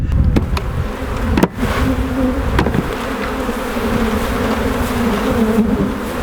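A dense, steady buzzing of many honeybees swarming close by around a hive, with a few brief knocks and rustles over the drone.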